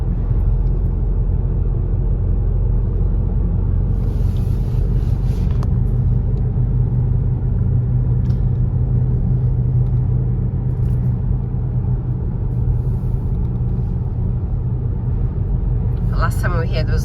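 Steady low road rumble and engine drone inside a moving car on a chatty drive to Campbeltown, continuous and fairly loud throughout, with brief faint rustles near the end.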